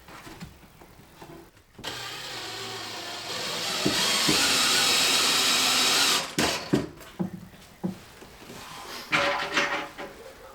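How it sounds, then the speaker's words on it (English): A power drill pre-drills through the side panel of an RTA cabinet being hung in a salvaged mobile home. It whirs loudly in one sustained burst of a few seconds, with quieter knocks and handling clatter before and after. "What I want to do is pre-drill into the side here through one cabinet"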